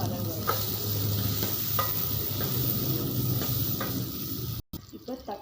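Tomatoes and onions sizzling and frying steadily in a pan, with faint stirring clatter throughout and a brief cut near the end.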